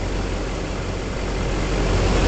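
A Chevrolet K2500 crew cab short-bed diesel truck engine runs smoothly, a steady, loud, continuous rumble with no gaps or revving, heard alone throughout.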